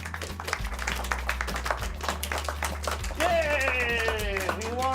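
A small group claps by hand in rapid irregular bursts, up close, with a voice speaking and then cheering over the claps.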